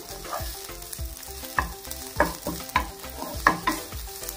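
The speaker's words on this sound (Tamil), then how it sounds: "அதுக்கு முன்னாடி நம்ம இதை இந்த மாதிரி நல்லா மிக்ஸ் பண்ணி விட்டுருவோம்." Seafood being stirred and mixed in a pan over low heat, with a steady soft sizzle under repeated scraping strokes of a utensil, several sharper clinks standing out, close and alone without voices.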